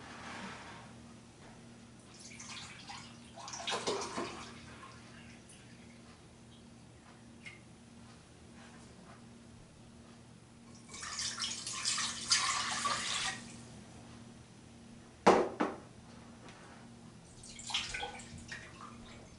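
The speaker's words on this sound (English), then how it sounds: "I need to put 4 cups of spring water into my big pot, my 3-quart pot here." Spring water pours into a big 3-quart pot for beer brewing, coming in several separate splashing bursts with quiet gaps between them and a sharp clink near the end, indoors with no talk.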